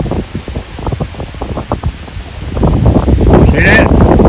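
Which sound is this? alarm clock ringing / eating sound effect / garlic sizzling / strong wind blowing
strong wind blowing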